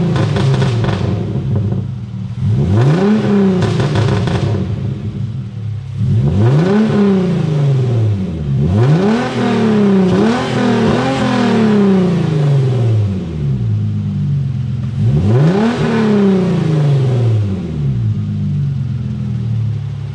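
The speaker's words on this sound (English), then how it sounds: "let's go ahead and give the car some revs so you guys can hear how it sounds in action" A Hyundai Genesis Coupe fitted with an Injen intake is revved repeatedly, about five sharp blips that climb and fall back to a rumbling idle, loud and close with no talking.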